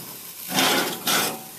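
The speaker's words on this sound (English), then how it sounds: "You can see here the tomatoes are sizzling away" Tomatoes sizzle on a grill, a soft, hissing crackle that swells in two brief surges over a low steady background.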